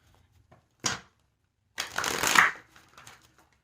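A tarot card deck is shuffled close up in two quick papery bursts, a short riffle followed by a longer, fuller one, with quiet gaps and no talk.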